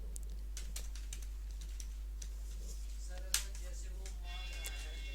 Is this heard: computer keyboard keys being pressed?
yes